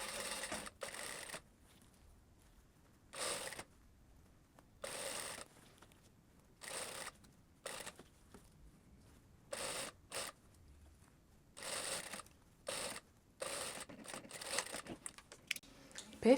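A sewing machine stitches a blouse sleeve into the armhole in short bursts of rapid whirring separated by quiet pauses, a dozen or so runs of varying length, close and clear.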